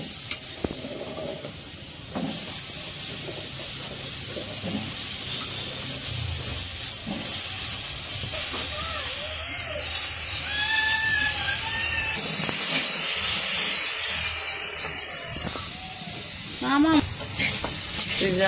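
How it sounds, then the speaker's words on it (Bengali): Potatoes frying in hot oil in a village kitchen give a steady sizzling hiss throughout, with stirring scrapes and faint voices at moments in the background. "ঠান্ডা তো লাগছে তখন আলুগুলা ভেজে নিব"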